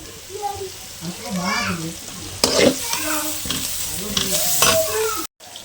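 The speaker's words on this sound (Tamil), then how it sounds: "வெங்காயம் நல்லா வணங்கட்டும் மக்களே." Sliced onions sizzle and fry in a pan for egg curry while a utensil scrapes and stirs them in repeated strokes, close and fairly loud, with a voice speaking over the cooking.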